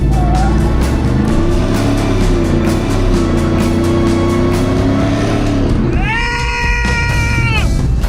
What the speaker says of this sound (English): if you want to do a burnout, we're not going to complain